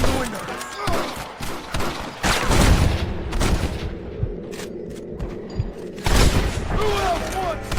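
Gunfire at snipers in a window in the Red Dead Redemption video game: repeated loud gunshots and booming reports with echoing tails crackle through a busy battle, and voices shout in the background.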